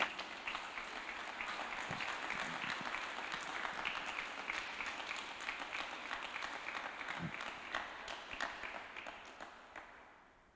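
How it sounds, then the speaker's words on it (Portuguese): A church congregation at a Thursday worship service gives a sustained round of applause that holds steady for several seconds and then tapers off quickly at the end. "Vamos dar uma salva de palmas para Jesus?"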